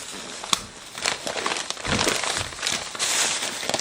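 Plastic packaging around boxed pet stairs being cut open, a run of crinkling, crackling and tearing bursts with a sharp snap early on, close and fairly loud with no talking.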